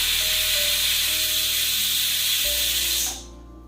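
Pressure cooker with chickpeas boiling in a home kitchen lets out a long loud steady hiss of escaping steam and whistle, then cuts off abruptly near the end, leaving a quiet hum.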